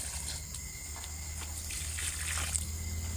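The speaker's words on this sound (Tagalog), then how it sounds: "ato sa niibo-bo sa bulak ning atong tubig nga hinugas sa gulay" Vegetable wash water poured from a container onto garden plants, a soft continuous trickle and splash that is fairly quiet and steady, with no speech.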